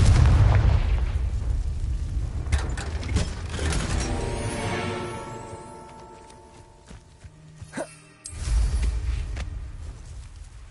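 Confringo blasting spell explosions in the Hogwarts Legacy game, heavy booming blasts with rumbling debris that fade into a ringing tail before another thump.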